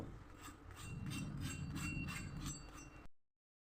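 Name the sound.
veg sandwich toasting on a pan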